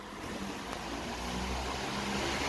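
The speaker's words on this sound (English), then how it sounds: "It's getting warm in here, so I think I got to turn on the fan." An electric fan runs inside a coop housing young Cornish Rock chicks, giving a loud, steady, jet-like roar that stays even throughout, close by and without talk.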